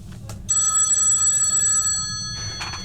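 Telephone bell in a stage play of Sorry, Wrong Number, ringing in one sustained electronic-sounding burst of about a second and a half, loud and close, with faint stage rustle before and after.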